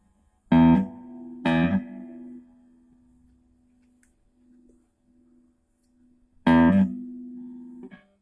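An electric guitar played through a Marshall JTM 30 amp with no reverb: three loud, clear strummed chords ring out and decay, separated by quiet gaps with a faint lingering hum.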